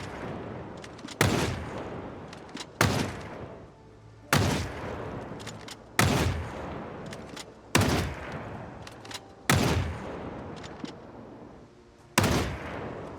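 Gunfire from the zombie survival game Project Zomboid, eight loud single shots spaced roughly every one and a half seconds, each with a short ringing decay, alone without talk.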